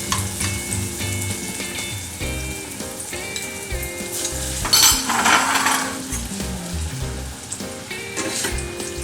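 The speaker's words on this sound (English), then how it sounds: "you deep fry them. You can put 2 or 3 at the same time" Falafel balls deep fry in very hot oil, two or three at a time, with a continuous bubbling sizzle and occasional clinks of metal utensils and pans, plus some tonal background music throughout.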